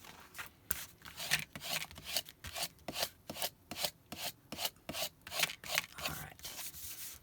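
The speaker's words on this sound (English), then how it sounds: "now let's burnish it down, and that also helps distribute that glue evenly" Glued paper being burnished down onto a desktop, a steady rhythmic rubbing with repeated back-and-forth strokes, fairly loud and close, with no voices.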